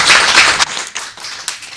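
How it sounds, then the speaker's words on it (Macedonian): An audience applauds panel guests at a press center discussion, a short burst of close, fairly loud clapping that thins out toward the end. "еден голем аплауз"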